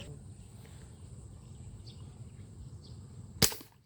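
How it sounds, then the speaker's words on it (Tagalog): Airgun fired while hunting and fishing beside a rice paddy: a single sharp, loud crack near the end, standing out from a steady low rumble and faint insect chirping. "Unang putok mga kabsat, grabe"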